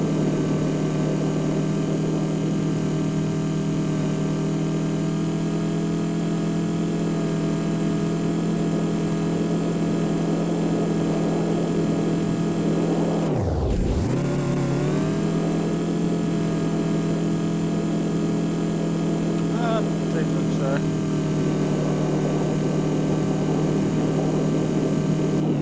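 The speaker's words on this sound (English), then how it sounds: "stage 3 variable boost turbocharger makes all power in the world." Turbocharged prerunner truck with a stage 3 variable boost turbocharger in BeamNG Drive, its engine holding a loud steady droning rev that dips sharply once before climbing back, with no talking.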